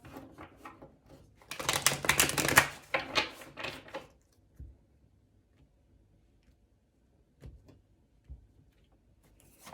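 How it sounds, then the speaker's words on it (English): A rapid riffle of tarot cards being shuffled, a dense burst of crisp flapping clicks lasting a couple of seconds, followed by a few soft taps and near silence. "One last shuffle."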